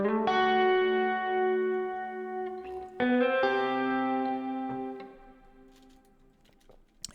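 A distorted synth lead plays a sustained melody of a few long, sliding notes, its grit coming from a character compressor plugin by Aberrant DSP, then fades into a quiet tail.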